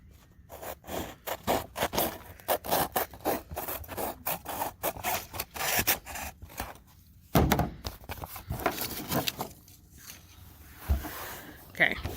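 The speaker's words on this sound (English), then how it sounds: "I'm going to trim off the excess because my picture was smaller than the piece of construction paper that I used" Construction paper is trimmed for a puzzle craft card, with a steady run of rhythmic scraping cuts and a few thunks on a table while a person talks over it.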